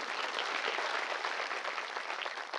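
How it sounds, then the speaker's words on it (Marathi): An audience at a devotional kirtan gathering claps in welcome, a dense, sustained round of applause that stays even and fairly distant with no speech over it. "पूजनीय महात्माजींचं आपण टाळ्या वाजवून स्वागत करूया"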